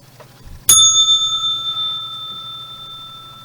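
A single bright bell strike ringing out loud and close, its metallic tone hanging and slowly fading over a few seconds, like a trading session opening or closing bell.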